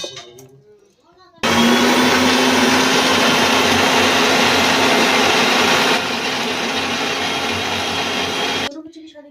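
An electric mixer grinder roars loudly and steadily as it grinds a powder mixture in its jar, starting abruptly and running for about seven seconds before cutting off, with faint talk before and after.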